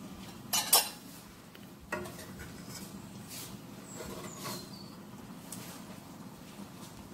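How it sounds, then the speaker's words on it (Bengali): A spoon clinks and scrapes against a pan while catla fish curry with sweet flat cabbage is served into a dish, with a few sharp metallic knocks early on and then quiet, faint scraping. "তো আমি এখন ডিশ আউট করবো।"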